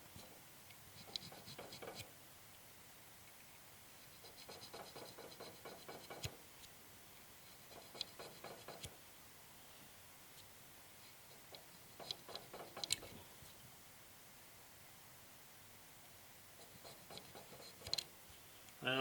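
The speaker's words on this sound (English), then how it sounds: "And so what I have to do is scrape that like this on the edge." A tool scrapes black residue off the edge of a repulsion-induction motor part during a motor overhaul, giving faint repeated scratchy strokes in short bursts over a steady low background hiss.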